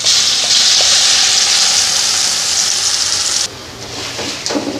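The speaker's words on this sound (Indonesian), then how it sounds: "Langsung aja bumbunya kita tumis kalau minyaknya sudah panas ya." Steady, loud sizzling of spice paste frying in hot oil, a dense crackling hiss that drops slightly near the end with a few stirring scrapes.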